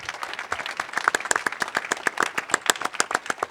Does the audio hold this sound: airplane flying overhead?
no